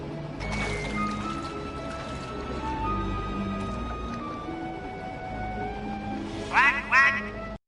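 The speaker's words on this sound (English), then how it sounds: "I'll make a bird call through the grapple cam speaker." Duck quack bird call played through a grapple cam speaker in Sly 3, a short burst of loud quacks near the end after a stretch of game ambience and music.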